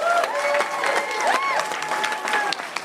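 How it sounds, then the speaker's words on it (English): Applause from an audience of independent film nominees at a live awards ceremony, a steady dense patter of clapping with cheering voices and chatter mixed in throughout. "Nominees, give yourselves a round of applause."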